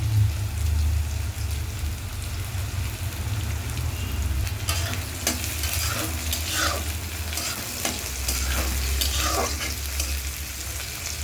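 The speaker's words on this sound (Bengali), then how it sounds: "পেঁয়াজটা একটু ভেজে নেব। এবার এতে দিয়ে দেবো কেটে রাখা কাঁচা লঙ্কা।" Onion and chopped green chillies frying in a pan, a steady close sizzle throughout with scraping stirring strokes becoming more frequent in the second half, and no talking.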